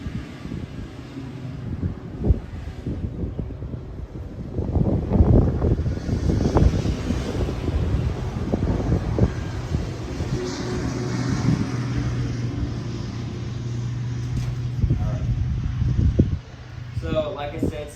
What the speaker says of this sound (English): let me wait until this tractor goes by.